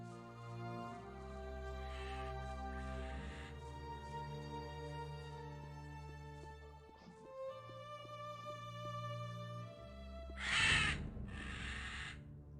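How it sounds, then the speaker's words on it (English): Crows caw in two loud bursts of harsh calls, early and again near the end, over a sustained musical score in the Gothic II mod Chronicles of Myrtana. "Bird ambiance has been implemented horribly because of the way it is so loud and it follows you"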